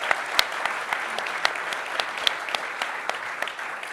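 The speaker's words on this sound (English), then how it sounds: "Please give them a big round of applause." An audience at a press conference applauds with continuous, dense clapping, a steady crowd sound with scattered sharper claps throughout.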